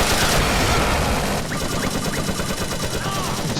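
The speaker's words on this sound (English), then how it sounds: "You see a lot of heavy fire from the Viet Cong machine guns." Viet Cong machine gun fire in the video game Battlefield Vietnam rattles in dense, rapid bursts at mid distance, a continuous loud clatter with scattered extra shots cutting through.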